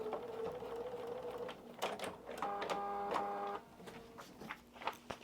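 A sewing machine stitching through the layers of a paper-pieced quilt border, a close mechanical whirr that runs in short bursts with tonal motor whine and light clicking as it starts and stops.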